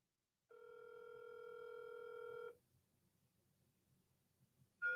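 A steady electronic telephone tone sounds for about two seconds, then cuts off into near silence before another brief tone starts at the end.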